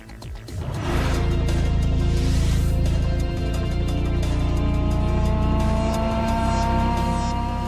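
Video game cars in Tokyo Xtreme Racer Drift 2 drift with loud, sustained engine revving and harmonic whine that builds and shifts pitch, with tire squeal and skidding layered throughout.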